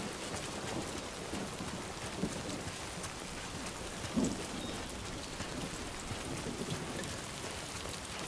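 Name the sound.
rain and thunder in video game Death Stranding 2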